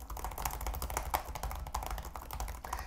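Quick, light keystrokes on an Acer Swift 3 laptop keyboard, a soft rapid patter of close taps at a fairly even pace with no voices.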